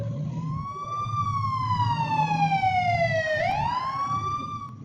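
An ambulance siren wails in long rising and falling sweeps over a low engine rumble, loud and close, with the pitch dropping then climbing as it passes.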